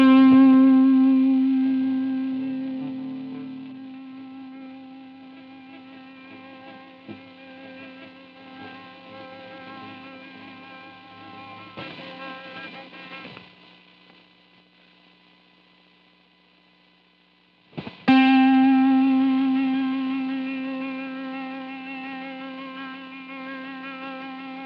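Distorted electric guitar running through a noise gate, a sustained harmonically rich tone with wavering vibrato that decays, cuts to near silence, then a fresh loud struck note rings out and slowly fades.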